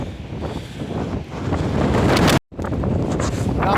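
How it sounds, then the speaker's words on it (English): Strong windstorm gusts roar across a dog park in Barstow, kicking up dust and dirt, with dense buffeting rumble on the microphone that swells louder, cuts out for a moment, then resumes. "Huge windstorm going on in Barstow, and the dust and the dirt are really kicking up."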